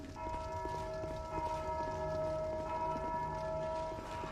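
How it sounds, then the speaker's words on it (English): Bells ringing in the game Dark Souls 2, heard as steady sustained tolling tones with a faint repeating pulse, held throughout without pause and moderately loud, no voices over them. "The bells are ringing."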